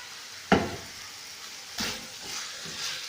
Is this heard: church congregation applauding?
no